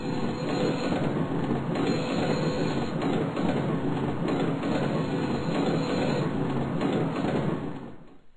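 A cartoon train rumbles steadily with rhythmic clattering of wheels on rails, loud and close, fading at the end as it slows to arrive.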